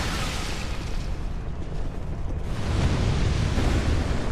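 A Dark Souls 2 explosion, a broad rumbling blast whose roar dips briefly and then swells louder toward the end, with no voices.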